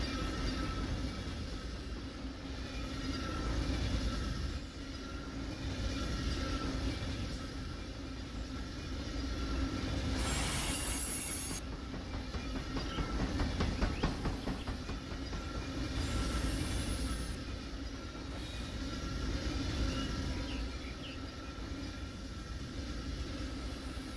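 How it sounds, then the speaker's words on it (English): A train rolls along the rails in the Run 8 train simulator, a steady continuous rumble with faint clickety-clack and some hissing bursts, sustained and fairly loud throughout with no talking. "there's a train right next to you that's going the same direction"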